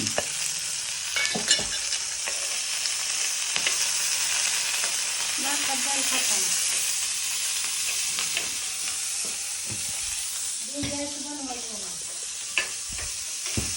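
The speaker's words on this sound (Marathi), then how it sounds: "अशी अशी बनवायची भेंडी. भाजून घ्यायची" Okra (bhindi) stir-fried in a pan, a steady close sizzle throughout with the scrape of stirring and a few knocks against the pan. A voice rises briefly at two points.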